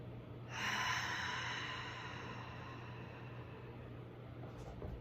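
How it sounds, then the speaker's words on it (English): A single deep inhale through the nose into the belly, a soft airy rush that swells quickly and then fades into a steady faint hiss over low background hum. "let's breathe in through the nose"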